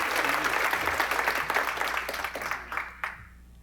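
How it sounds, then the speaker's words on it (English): Audience at a charity awards event breaks into a sustained round of applause, dense clapping holding steady before thinning out toward the end with a few last claps. "Let's give her a round of applause."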